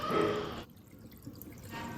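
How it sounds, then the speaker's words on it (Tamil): Water pours briefly into a nonstick pan in a home kitchen, making a soft splashing trickle that stops abruptly and leaves only faint background noise. "ஒரு நான்ஸ்டிக் பேனில் 2 கப் தண்ணி ஆட் பண்ணிக்கோங்க."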